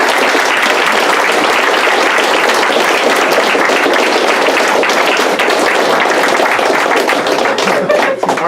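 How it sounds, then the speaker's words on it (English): A student audience at a campus debate applauding, dense sustained clapping filling the room, loud and close, holding steady before tapering slightly at the end. "All right, let's give a round of applause."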